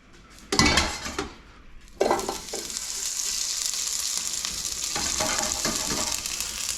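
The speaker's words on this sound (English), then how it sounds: "by searing these in the oil. I'm using olive oil." Asparagus sears in hot olive oil in a pan, a loud burst of sizzling as the spears go in, then a steady crackling fry with a few clinks and shuffles of the pan.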